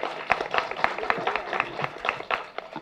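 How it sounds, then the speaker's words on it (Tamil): Audience clapping at a Tamil movie audio launch, honouring the film's music composer; a steady patter of many hands, moderately loud and fairly close, lasting throughout without a break. "முதல்ல அவருக்கு ஒரு கைத்தட்டல் கொடுப்போம்."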